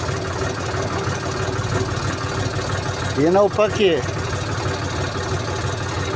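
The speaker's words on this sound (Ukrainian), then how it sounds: "Трактор почав рухатись." A steady idling tractor engine rumbles throughout as the clutch is released and the tractor moves off, with a brief rise in revving midway while someone speaks over it.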